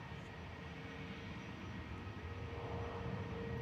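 Ryanair jet departing Manchester Airport, a low, steady engine rumble throughout, heard from a distance at fairly low volume with no talking.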